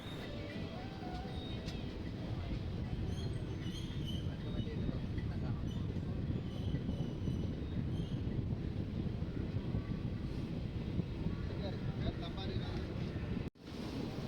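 A passenger train running from Nagercoil to Trivandrum gives a continuous rumbling roar with steady wind-like rush throughout, loud and close, broken by a brief sharp dropout near the end.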